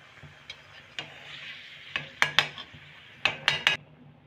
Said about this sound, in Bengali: একটা একটা করেই ভেজে নেব